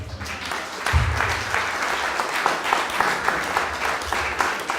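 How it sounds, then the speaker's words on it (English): A room of seminar attendees gives a round of applause for people called to the front, sustained busy clapping with a brief low thump near the start and a few scattered cheers mixed in. "I think we should give them a round of applause,"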